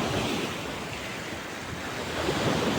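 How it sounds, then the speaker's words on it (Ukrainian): Sea waves surging and breaking on a shore on a warm but rough day, a steady loud roar of surf with wind buffeting the microphone throughout and no voices. "Так що послухайте хвилі, як шумлять."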